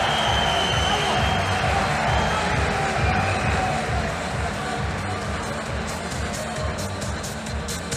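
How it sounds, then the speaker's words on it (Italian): Loud, steady crowd noise fills a Thai Fight arena during a Muay Thai bout between Saenchai and Malatesta, a continuous roar with cheering and possible applause blended in. "Solo applausi."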